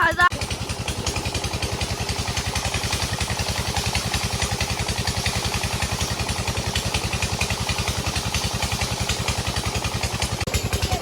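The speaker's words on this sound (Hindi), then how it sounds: "पीछे देख रहे हैं ट्यूबवेल चल रहा है" A tubewell pump engine runs steadily nearby, a loud rapid thumping beat that holds constant throughout, with a person talking over it.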